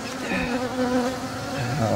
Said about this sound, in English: The bees were just marching towards it. They've all clustered under that.